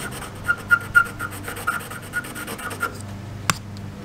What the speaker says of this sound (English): we kind of got most of the surface rust area off, and it cleaned up any loose paint as well